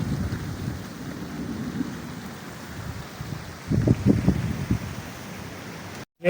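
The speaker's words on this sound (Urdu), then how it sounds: "ایک بہت لمبے عرصے کے بعد یہ بارش دیکھنے کو ملی ہے ہمیں گاؤں میں" Heavy rain pours steadily in a Pakistani village, a broad continuous hiss and rumble with gusty, low thuds swelling midway before the sound cuts off abruptly, with no one speaking.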